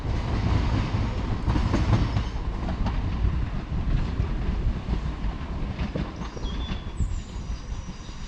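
A Class 375 electric train pulls away from a station platform in Kent, a loud continuous rumble of wheels and traction with rhythmic clicks and a brief high squeal near the end.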